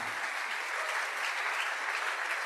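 Sustained applause from a congregation during a church service, steady and dense for the whole stretch, ending abruptly.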